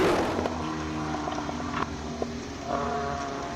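A race car at the Simola Hillclimb roars with a dense, continuous engine note. It surges and shifts pitch in a few places, heard close and loud with no talking.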